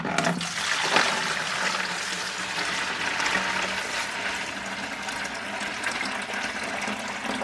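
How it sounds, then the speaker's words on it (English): Water pours steadily into a flask used to mix toy monster figures, a continuous splashing rush that runs throughout and grows slightly duller toward the end. "Fill up the flask with waters."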